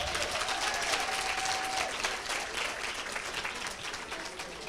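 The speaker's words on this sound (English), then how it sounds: "Give yourselves a round of applause." Graduating social development students and guests at a pledge ceremony applaud in a steady, fairly soft wash of many hands, sustained throughout with a faint tonal whine underneath.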